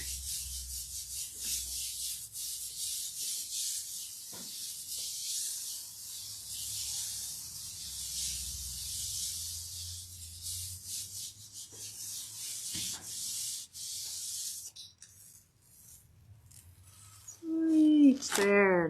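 Paper rubbed firmly down onto a Geli gel printing plate with a hand, a steady close scratchy brushing that runs on and off for most of the clip and gives way to a brief bright squeak at the end.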